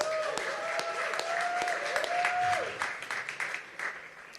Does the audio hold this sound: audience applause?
yes